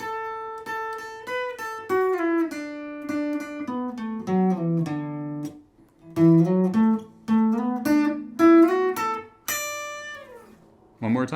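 An electric or acoustic guitar plays pentatonic riffs that link the scale boxes with slides, the notes gliding between positions in flowing phrases with a brief pause midway, clear and alone.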